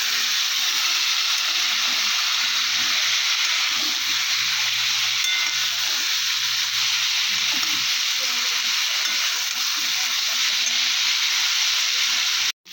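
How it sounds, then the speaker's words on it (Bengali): Fish curry with cumin paste, chili paste and tomato sizzling and frying in a pan as it is stirred, a steady loud hiss with soft scraping stirs throughout, ending abruptly. "জিরে বাটা আর লঙ্কা বাটাটা দিয়ে দিলাম, আর এই টমেটোটা দিয়ে দিলাম, দিয়ে আবার বেশ কিছুক্ষণ নাড়া দিয়ে দেবো"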